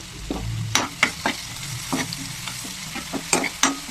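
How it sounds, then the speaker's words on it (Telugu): Bottle gourd frying in a pan, with a close, continuous sizzle broken by repeated sharp scrapes and taps of a spoon stirring every half second or so. "నేను మామూలుగా ఫ్రై చేస్తున్నాను"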